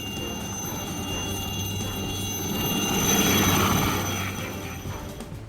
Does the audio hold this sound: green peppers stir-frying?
no